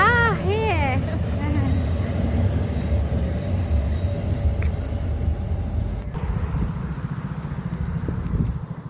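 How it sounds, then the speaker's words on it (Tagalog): A train arriving from Oulu rumbles steadily at a station platform, a broad low roar with a brief high squeal early on, while people talk nearby over it. "This is a train. Yeah. From the north."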